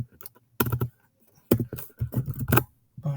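Quick bursts of keystrokes on a computer keyboard come in three short clusters separated by pauses, crisp and close while a pip install command is entered.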